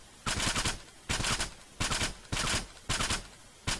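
Bursts of video game gunfire come in about five evenly spaced volleys, each a loud, dense stretch of rapid shots followed by a short lull.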